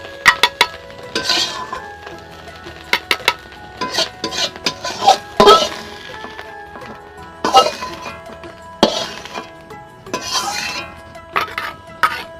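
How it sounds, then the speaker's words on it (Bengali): A metal spoon scrapes and clinks against a pan and a bowl as fried fish roe is lifted out in a home kitchen. The sharp knocks come irregularly, with quieter stirring scrapes between them. "মাছের ডিম আমার ভাজা হয়ে গেছে এখন মাছের ডিমটা আমি বাটিতে উঠিয়ে নিচ্ছি"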